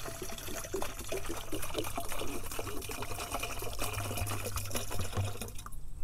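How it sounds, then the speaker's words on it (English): Hydrogen peroxide pours steadily into a sprayer bottle at close range, a continuous quiet liquid trickle that runs for several seconds. "Dump in our hydrogen peroxide."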